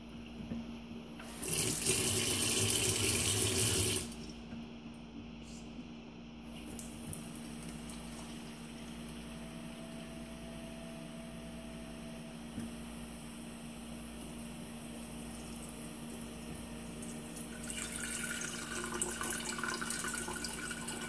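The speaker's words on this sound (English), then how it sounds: "I don't know if you can hear the cup being filled up or the sink hissing" Water runs from a sink tap into a cup while making cold brew iced tea, with a burst of loud gushing flow, then a steady hissing stream that swells again near the end.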